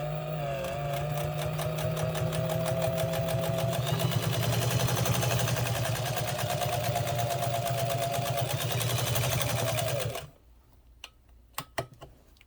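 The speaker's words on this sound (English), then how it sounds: "we're going to sew on this cowhide" A Kenmore 117.959 sewing machine with a thick 80/12 needle sews through cowhide in a steady, rapid, loud mechanical whir with a rhythmic needle clatter for about ten seconds, then stops, leaving a few sharp clicks.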